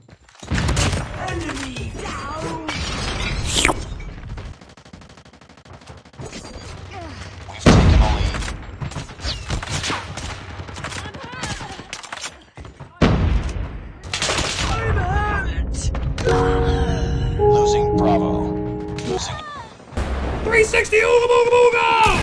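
A grenade-firing shotgun in a first-person shooter game lets off repeated heavy blasts with booming thuds, mixed with game announcer callouts, music and a player talking over the action.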